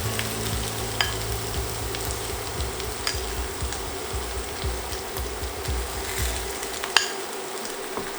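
Flour sizzles steadily as it is stirred into hot rendered fat, with an even, crackling fry up close and occasional scraping clicks of a utensil against the pan.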